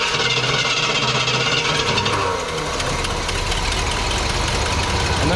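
A carbureted car engine, flooded after long cranking, runs steadily at idle in a garage, a loud, rough, constant rumble with a slight dip partway through and no speech over it.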